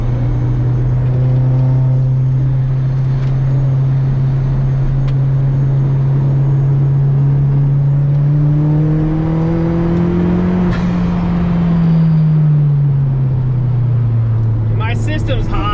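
Volkswagen Corrado with a small, heat-soaked intercooler driving on a road, its engine droning steadily from inside the cabin and rising and falling in pitch as it accelerates, with a voice speaking over it.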